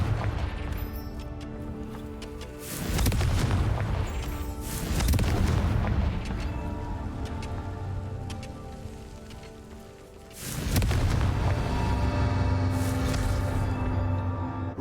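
Several Confringo fire spell explosions go off in Hogwarts Legacy: three heavy booming blasts at intervals, each followed by a rolling, crackling rumble that hangs on like a downpour.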